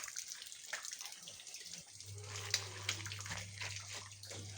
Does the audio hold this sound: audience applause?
no